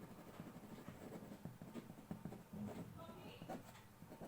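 Marker or chalk scratches on a board during a classroom lesson, a faint series of short irregular strokes and taps, very quiet and close, with a voice softly present.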